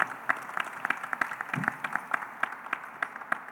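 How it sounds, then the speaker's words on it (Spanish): Scattered clapping from a modest audience greets an honoree at a recognition ceremony, with uneven individual claps at moderate distance. "Nos recibimos con un aplauso a Marco Tulio Aguilera, nuestro homenajeado de este día."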